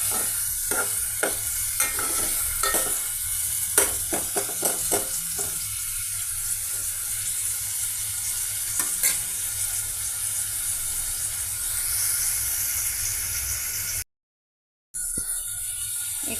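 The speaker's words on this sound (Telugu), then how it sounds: "ఫ్రై అవనిద్దామండి" Tomato fries in a pan with ginger-garlic paste, onion pieces and green chillies, giving a steady sizzle with scattered stirring clicks and scrapes, continuous and close, with a short break near the end.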